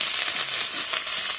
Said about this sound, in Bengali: এখানে আমি গ্রেট করা আদা আর কাঁচা লঙ্কা ভাজে দিয়ে দিলাম